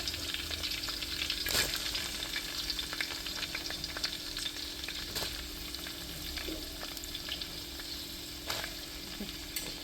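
Sliced onions and green chillies sauté in hot oil for a spicy beef fry, a steady close sizzle with occasional stirring scrapes and clinks.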